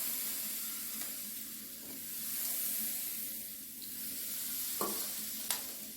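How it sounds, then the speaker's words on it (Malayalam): Water is sprinkled into a hot pan of cooking ragi egg upma, giving a steady soft sizzle with a few brief sharper crackles and splashes near the end, with no voices. "കുടഞ്ഞ് വെള്ളം ഒഴിക്കുക."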